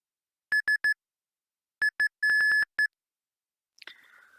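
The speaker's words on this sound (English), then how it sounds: "I have a Sierra Foxtrot Morse code set up." Morse code for Sierra Foxtrot is transmitted in the DCS Mi-24P helicopter game, clean electronic beeps in short and long bursts with pauses between groups, then a faint brief clatter at the end.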